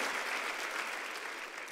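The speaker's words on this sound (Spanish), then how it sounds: "¿Por qué no me ayuda a darle un aplauso de honra para todos ellos?" Steady applause from a church congregation honouring a group of people, a dense, even wash of clapping held at a moderate level throughout, with no voices over it.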